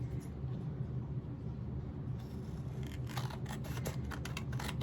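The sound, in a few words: trimming fabric postcard edges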